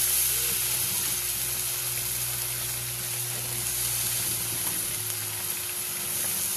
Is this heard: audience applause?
no